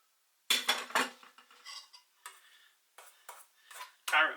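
Grated carrot is worked into a beef rissole mixture with a utensil against a bowl, producing irregular close clinks, scrapes and soft knocks separated by brief pauses.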